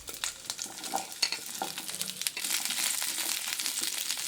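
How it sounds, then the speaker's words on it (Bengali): Cauliflower pieces drop into hot oil and fry with a dense crackling sizzle. Scattered sharp pops and scrapes come early, then the sizzle settles into a steady, close, fairly loud hiss with no voices. "ওই তেলে দিয়ে দিলাম ফুলকপিগুলো। ফুলকপিগুলো আমি ভেজে নেব।"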